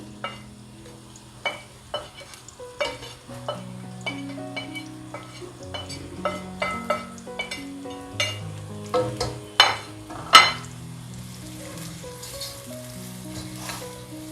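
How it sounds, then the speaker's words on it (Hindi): Finely chopped onions go into hot oil in a pot for a Pakistani wedding-style degi chicken korma, frying with a soft sizzle under steady background music and scattered sharp clinks of a utensil against the pot. "अब मैं इसमें कटी हुई बारीक प्याज डाल रही हूँ।"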